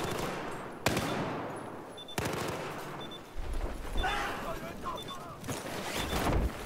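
Bursts of machine gun fire in Battlefield 4 multiplayer combat, several loud rapid volleys with brief gaps, mixed with other battle noise and people talking over it.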